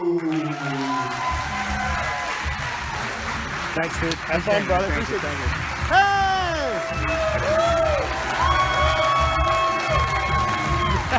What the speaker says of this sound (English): give a big massive round of applause